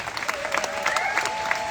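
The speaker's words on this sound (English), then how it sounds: "A big round of applause" Crowd at an outdoor Free Palestine rally in Melbourne claps for a speaker, a brief burst of scattered applause with some cheering voices mixed in, moderately loud.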